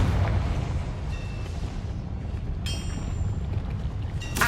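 The Confringo fire blast spell in Hogwarts Legacy sounds as two sharp, bright bursts over a low, continuous rumble of game ambience, loud and close, without talking.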